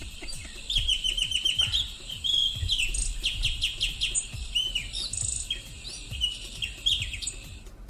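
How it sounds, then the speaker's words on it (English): A nightingale sings a varied run of bright chirps, trills and whistled phrases, fairly close and clear over a low rumbling background, with no voices in the clip. "It is in fact a nightingale."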